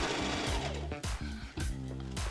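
A sewing machine stitches fabric in steady, loud bursts of rapid mechanical whirring, broken by brief pauses as the fabric is pushed through, close to the listener.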